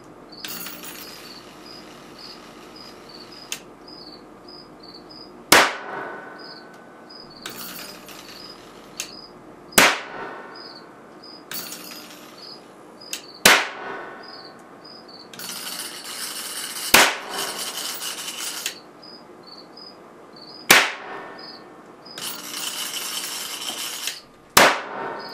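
A capacitor bank discharges into a PC motherboard, giving a series of about eight sharp, loud cracks and bangs spaced a few seconds apart, with faint hissing and rattling bursts between them.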